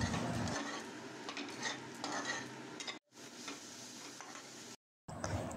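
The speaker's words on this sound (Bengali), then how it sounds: "সমস্তটাকে ভালো করে ভেজে মিশিয়ে নিতে হবে।" Prawn curry with ginger paste fries in a pan, with spatula scrapes and stirring over a crackling sizzle, interrupted by two short silent gaps.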